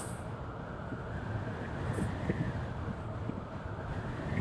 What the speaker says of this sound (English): But this wind is crazy.